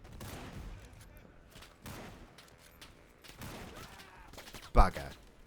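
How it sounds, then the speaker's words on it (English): Light machine gun fire in the WWI video game Over The Top: scattered bursts of gunfire echo across the battlefield at moderate volume, topped by one louder close shot near the end. "Light machine gun."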